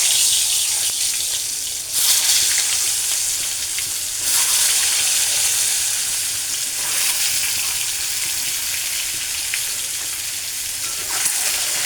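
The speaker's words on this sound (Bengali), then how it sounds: "লবণ দিয়ে আমি এখন ডিমগুলো ভেজে নেব" Eggs frying in hot oil seasoned with turmeric and salt, a steady broadband sizzle close by that swells in brief surges, heard alone with no talk.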